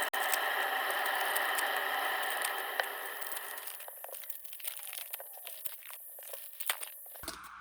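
Vintage baseball card packs being ripped open, with steady crinkling and tearing of wax wrappers close up for several seconds, then softer intermittent rustling and crackles as the paper is pulled apart.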